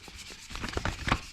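Hand sanding with 400 grit sandpaper on a Harley-Davidson V-Rod part, a series of short close rubbing strokes in an irregular rhythm, quiet and alone.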